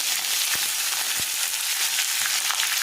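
Panch phoron spices sizzle steadily in hot oil for a Manipuri vegetable thongba, a bright continuous hiss with a few sharp pops and crackles, close and alone with no talk.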